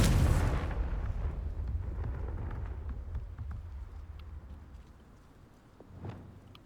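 A Confringo blasting spell explodes in the video game Hogwarts Legacy: a loud broadband burst opens and decays into a low rumble, with a smaller thud near the end.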